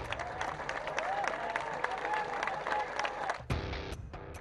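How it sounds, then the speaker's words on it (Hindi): Audience at a JNU event applauds with dense clapping and a few cheers, loud and sustained, then cut off abruptly near the end, leaving a short, quieter tail with a voice. "एक मांग और बजने लगी तालियां।"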